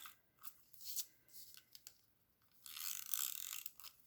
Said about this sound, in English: I'm going to take my embossed panel and I'm going to use a tape runner on it